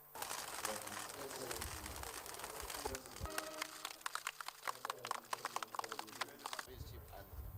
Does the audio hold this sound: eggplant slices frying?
no